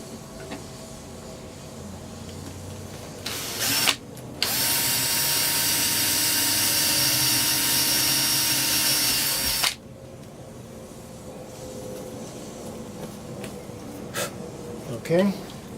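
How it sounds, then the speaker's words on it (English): A power drill bores holes for dash fittings on a Luhrs 28 boat, with one loud, steady whirring run of about five seconds, short bursts before it and handling noises after, close up. "remove it, and drill."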